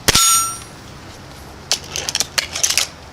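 A Sig Sauer pellet from a Gamo Swarm Fusion 10 Gen 2 air rifle strikes a small steel silhouette target with one bright, ringing metallic clang, followed by a cluster of fainter clinks and rattles, with no talking.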